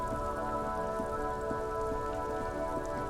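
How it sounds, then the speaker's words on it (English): Video game rain patters steadily on surfaces at a soft, even level, with a low tonal hum of background game ambience beneath it and no speech. "Stuck in the rain in a traffic jam"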